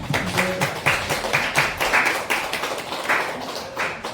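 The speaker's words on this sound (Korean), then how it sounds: "그러면 박수 한번 합시다." Church congregation clapping together during an afternoon worship service, a series of sharp, evenly spaced group claps falling into a loose rhythm, fairly close and loud, with no talking over them.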